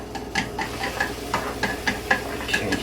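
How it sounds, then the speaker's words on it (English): Oil sizzles and crackles in a hot pan, a steady hiss with repeated soft pops and spits throughout. "Hear it sizzle already."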